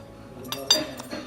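Cutlery clinks against plates at a restaurant table, a few light, quick metallic taps and scrapes close by in a quiet room.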